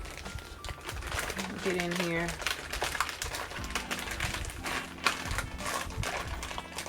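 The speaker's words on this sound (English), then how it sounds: "And I apologize for the crinkling noise." Plastic packaging holding several resin molds crinkles and crackles near the microphone as it is pulled open, the rustling continuous and fairly loud, with a person speaking briefly over it.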